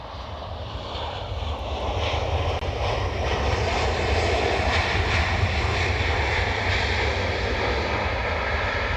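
An airliner on approach to Dublin Airport produces a continuous engine roar that swells slightly and stays strong and steady, with no voices.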